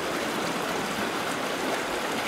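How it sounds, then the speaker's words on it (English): A river flows past near Ouray, a steady broadband rush of moving water with no distinct splashes, fairly faint and unbroken, no speech. "And here's the river going away."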